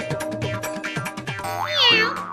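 A single drawn-out meow rises and falls near the end, after a busy run of bouncy, springy cartoon-like tones.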